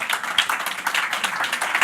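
Audience applause at a basketball and football tournament draw ceremony, a short burst of steady, moderately loud clapping from a crowd.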